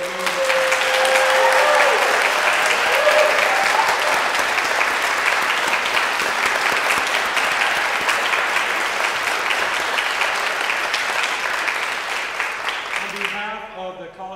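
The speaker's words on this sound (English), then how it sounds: "can we have another huge round of applause for all these amazing students?" A large audience gives sustained, dense clapping at a university holiday concert, with a few whoops rising early and a voice starting to speak as the applause fades at the end.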